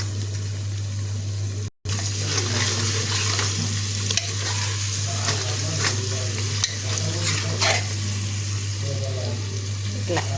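Mutton pieces fry in oil with turmeric, crackling and sizzling loudly under a constant low hum, with clattering stirs and a brief cut near the start; a voice may be faintly present.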